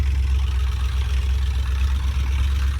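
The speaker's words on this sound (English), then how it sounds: "This car is revving up, so I'm not going to talk much because you can probably hear the rumble of the motor." A car engine rumbles steadily nearby outdoors in winter, a deep continuous low drone with a constant level and no clear rise in pitch, no talking over it.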